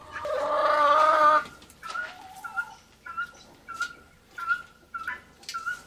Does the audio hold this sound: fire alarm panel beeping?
no